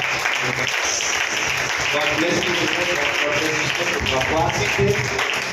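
Church congregation applauding to welcome first-time visitors at a Hindi-language Christian service, steady clapping mixed with talk and music throughout.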